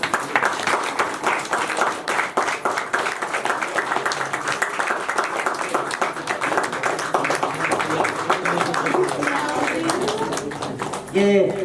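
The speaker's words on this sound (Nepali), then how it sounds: "उहाँलाई हामी ताली बजाइदिन्छौँ" Wedding guests clap together in steady, dense applause that fills the room for the whole stretch, loud and close, with a brief louder burst of other sound at the very end.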